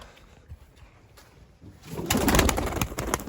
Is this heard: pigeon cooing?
yes